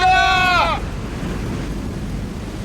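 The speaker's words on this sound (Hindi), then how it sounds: "समुद्री लहरें इतनी ऊपर उठकर हमारी तरफ आ रही हैं। लहरें बहुत तेज हैं।" Stormy sea surf from a 2D animation rolls in as a steady broadband roar, with a brief tonal, bleat-like cry at the start before the wash of high waves continues alone.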